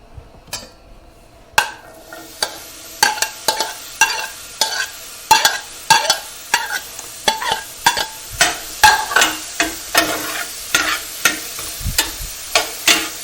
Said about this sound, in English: So now I'm going to go ahead and saute the vegetables